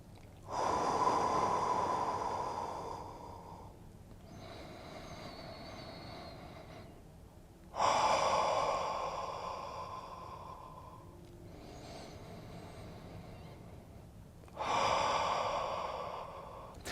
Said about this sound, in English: and then you're going to exhale out through your mouth